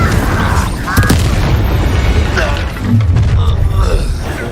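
An Incendio fire spell in Hogwarts Legacy erupts in booming, whooshing bursts, loud and close, with a strong blast near the start and another swell later amid ongoing battle noise.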